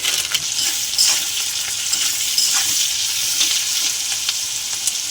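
Onions, green chilli, black cumin, turmeric and red chilli powder sizzle in hot oil in a pan, a dense bright frying hiss with occasional scrapes of stirring, close and steady, no voices.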